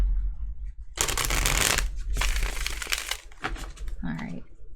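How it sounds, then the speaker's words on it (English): Tarot cards being shuffled in two crisp riffling bursts, close and fairly loud, followed by a brief spoken word. "Can we shuffle? Can I shuffle?"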